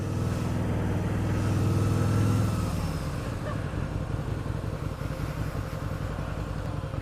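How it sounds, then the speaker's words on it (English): Harley-Davidson V-Rod Anniversary Edition idling in city traffic with its cooling fan running, a loud close engine rumble and whirring drone that eases slightly after a few seconds, steady throughout with no talk. "As you can hear, the fan's on again, just because I'm sitting in traffic."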